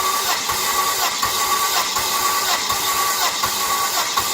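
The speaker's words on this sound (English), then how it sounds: "It's turning over pretty slow." Volvo XC90 engine cranking slowly, a loud, even, labored rhythm of starter pulses about every three quarters of a second, close by with no voices.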